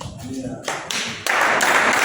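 A church congregation at a Sunday service claps, building from scattered taps into fuller, louder applause in the second half, with a voice audible alongside.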